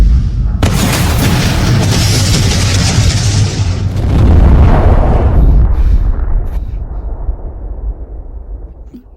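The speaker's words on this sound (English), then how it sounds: "I'm gonna set off a big firecracker for you." A big firecracker goes off with a loud, broad boom and then a long rumbling decay that slowly fades, with no talking over it.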